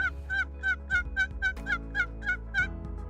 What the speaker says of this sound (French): Les dindons, on les voit sur l'autre champ d'à côté.